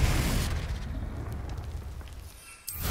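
A Confringo blasting spell explodes in Hogwarts Legacy, a loud, low rumbling boom that fades out over a few seconds before a sharp burst near the end.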